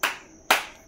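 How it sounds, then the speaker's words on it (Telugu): Two sharp hand claps sound close by in an outdoor forest park, about half a second apart, each a crisp slap that fades quickly into quiet. "డబ్బులేండి చప్పట్లు కొడుతుండు."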